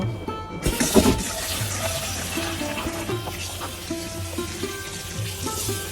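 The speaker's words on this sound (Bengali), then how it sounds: "আমি লাউ পাতাগুলো এইভাবে ধুয়ে নিব সবগুলো" Bottle gourd leaves are rinsed under running water, a close, steady flow with irregular splashing and rustling as the leaves are handled throughout.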